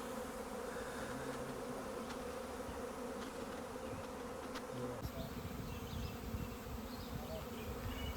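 Bees at beehive boxes buzzing in a steady, dense drone, faint and continuous, with no voices.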